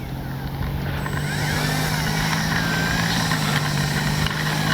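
A Kavan Bristell B-23 RC plane comes in to land on a windy day, its motor giving a steady, fairly loud whine with a slight pitch shift as power is eased back, over broadband wind noise.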